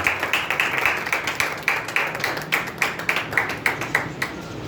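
A church audience claps to welcome a pastor. The sharp, even, rhythmic claps come close together and hold a steady beat for nearly five seconds, with no talk over them.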